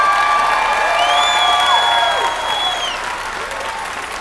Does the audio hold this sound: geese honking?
no